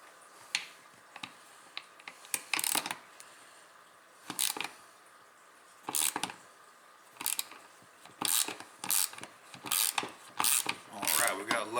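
Close ratcheting and mechanical clicks from a wrench tightening a bolt on a 48-year-old 5 horsepower Briggs and Stratton engine starter, coming in irregular short bursts with quiet gaps between them and no talk.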